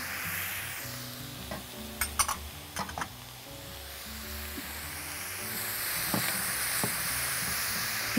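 Zucchini being stirred in a pan with a tomato-juice sauce, a steady sizzle and hiss broken by a few sharp clicks and scrapes from the spoon.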